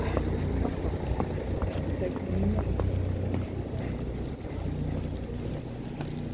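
Strong wind buffets the microphone steadily throughout, a constant loud rush and rumble with faint footsteps or knocks underneath.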